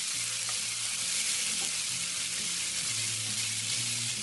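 USDA prime rib eye steaks sizzle in a cast iron pan, a loud, dense, steady crackling hiss of frying fat with a low hum beneath it, close and continuous throughout, with no voices.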